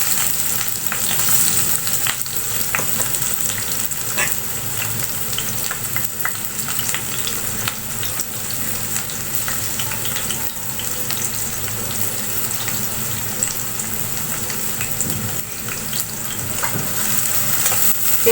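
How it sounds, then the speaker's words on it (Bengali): Onions and green chillies fry in oil in a wok, giving a steady, close sizzle that runs unbroken throughout with faint stirring scrapes and no talk. "পেঁয়াজ একটু ভেজে নিব তেলের ভিতর"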